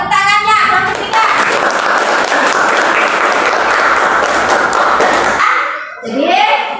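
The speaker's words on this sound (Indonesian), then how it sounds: "Iya, tepuk tangannya. Kelompok 3." A classroom of children claps together for a group, fast dense clapping that holds steady for about four seconds, with children's voices just before and just after.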